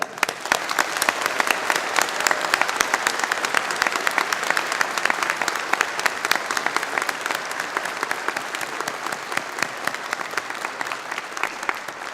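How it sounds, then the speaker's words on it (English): A large audience applauds at a spring university convocation, sustained dense clapping at an even level throughout. "Please join me now in a round of applause to acknowledge them."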